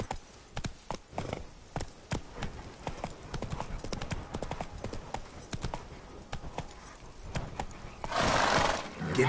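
Horse hooves clip-clop at a gallop in The Witcher 3, a steady rapid rhythm of close, sharp hoofbeats, with a brief whinny and a louder rushing swell near the end.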